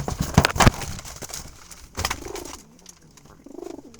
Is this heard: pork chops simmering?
no